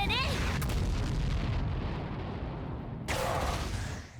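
Sub bomb attack explosions in the Bleach: Brave Souls mobile game, a dense rumbling barrage of booms with a bright burst near the end, loud and continuous under game music.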